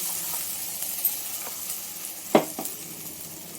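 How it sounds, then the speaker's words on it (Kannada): Ground green masala hitting frying onions in hot oil, a steady close sizzle that flares into a sharp burst partway through, followed by a smaller second crackle as it settles. "ಈಗ ಮಸಾಲೆ ರುಬ್ಕೊಂಬಂದಿದ್ದೀನಿ, ಹಾಕ್ತಾಯಿದ್ದೀನಿ."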